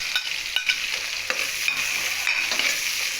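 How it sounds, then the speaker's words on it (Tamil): Ginger garlic paste sizzles and fries in a pan as part of a chicken biryani, with a spoon stirring it in several scraping strokes over a steady crackle; no one speaks. "நல்லா சேர்த்துட்டு நல்லா கிண்டி விடுங்க."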